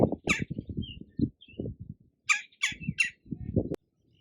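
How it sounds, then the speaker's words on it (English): A woodpecker visiting a camp in Oklahoma gives sharp, close calls in quick bursts, with several higher squeaky chirps in between and a short pause midway. "I got a visit from this cool woodpecker here."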